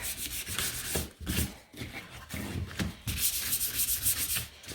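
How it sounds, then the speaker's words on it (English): Sandpaper rubs back and forth over the edges of a wooden shiplap shamrock, making rhythmic, close, scratchy strokes with short pauses between passes and no voices. "take your sandpaper and round off those edges so they're not quite as sharp"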